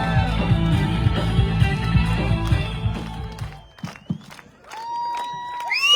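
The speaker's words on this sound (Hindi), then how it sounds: "जोरदार जोरदार तालियां" A crowd at an evening gathering bursts into loud, continuous applause and cheering, dense clapping that carries on for several seconds before cutting off into scattered shouts and brief musical tones.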